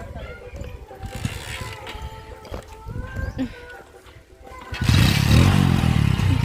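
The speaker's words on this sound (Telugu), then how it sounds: "బండి కూడా స్టార్ట్ అయింది" A motorcycle engine kicks into life after a stretch of outdoor chatter and light clatter, its loud, steady rumble and idle filling the last couple of seconds close by.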